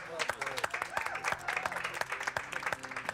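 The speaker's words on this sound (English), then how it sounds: "a round of applause from the gallery" A crowd applauds steadily, dense clapping with scattered sharper claps and some murmuring voices mixed in.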